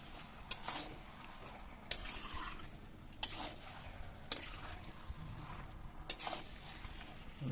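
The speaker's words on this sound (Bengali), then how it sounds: "এইভাবে নেড়ে নেড়ে পুরো মশলাটা মাংসের গায়ে মাখিয়ে নেব" Meat being stirred with spices in a pan, a continuous low sizzle broken by repeated sharp scrapes and clanks of the spoon against the metal, several of them loud and evenly spaced.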